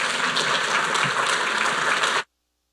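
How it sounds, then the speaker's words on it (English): An audience in a chapel gives a speaker a round of applause, a dense, even clapping from many hands that holds steady for about two seconds and then cuts off abruptly. "Let's give Dr. Geer a round of applause"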